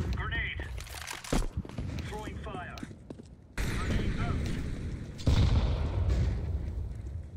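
Gunfire in Counter-Strike 2 comes in several close bursts and sharp cracks, with louder volleys in the later half, while someone talks over the shooting.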